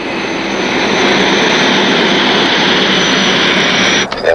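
A fixed-wing aircraft roars steadily overhead as it comes in to land with its landing gear lowered, the loud engine drone filling the scene before cutting off abruptly near the end.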